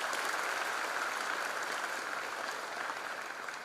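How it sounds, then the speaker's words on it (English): Audience applause at a freshers' induction programme, steady dense clapping from a large crowd heard at a distance, fairly faint and sustained without pause. "That deserves a big applause from all of us."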